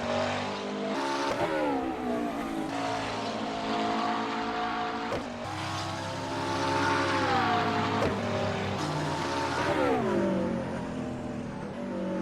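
A McLaren race car in a sim racing game at Brands Hatch roars past with a loud, sustained engine note that climbs and dips through gear changes and revs, steady over the whole stretch with no talk.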